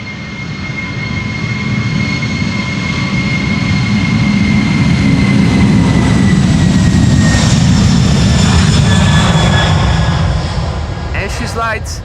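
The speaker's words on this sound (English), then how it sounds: "Old school engine sounds." Roaring jet engines of a Boeing 747 at takeoff power from Amsterdam Schiphol's Polderbaan runway, a sustained loud rumble with high whine that swells and holds steady.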